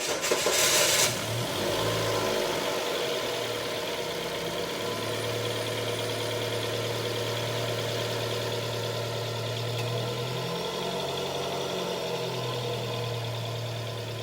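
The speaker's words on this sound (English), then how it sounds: "finally it looks like we're getting some operation of the compressor" A Jeep engine idles steadily with a newly installed AC compressor running, a continuous low hum with a faint whine that shifts pitch midway, preceded by a brief burst of noise at the start.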